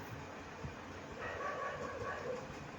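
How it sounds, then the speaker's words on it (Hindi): Dogs bark somewhere outdoors, faint and distant, with a few yips rising out of a constant wash of background noise. "अब आप कोई कुत्ते भौंकते ही सुनाई दे रहे होंगे,"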